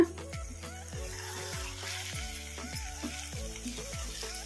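A stuffed bitter gourd curry sizzles in oil in a pan as it gets stirred, with a regular series of spoon scrapes and knocks about every half second over a constant frying hiss.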